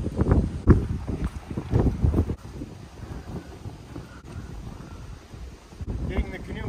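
Strong gusty wind buffets the microphone at a lakefront campsite in the Adirondacks, with loud irregular rumbling bursts and a few sharp knocks, steady and close throughout.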